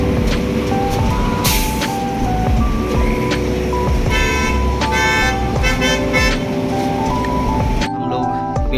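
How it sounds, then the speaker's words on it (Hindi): Cars and buses sit in a stalled highway traffic jam near Kathua while horns toot repeatedly over a steady engine drone, with chatter throughout. "हम लोग भी ट्रैफिक जाम में फंस चुके हैं"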